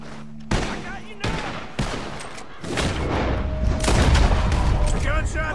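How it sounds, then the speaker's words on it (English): Several sharp gunshots crack out in Red Dead Redemption 2, then a dense, continuous burst of gunfire builds and rumbles on, with voices faintly underneath. "Gunshots are coming from that barn!"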